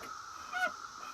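An agitated screech owl lets out a short, faint nasal honking call inside an animal care facility, a single rasping note lasting well under a second against quiet room noise.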